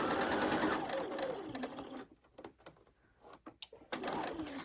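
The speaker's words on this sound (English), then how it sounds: "I'm going to do a couple of stitches forward, and then I'm going to go backward a little bit." Sewing machine stitching curved quilt pieces, running in steady whirring bursts with brief pauses as it sews forward and then backward, close and loud.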